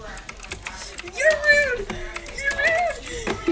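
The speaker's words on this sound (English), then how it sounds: "does anyone want to listen to keyboard ASMR?" Rapid clicking of keys on a computer keyboard, with a voice speaking over it while playing Fortnite.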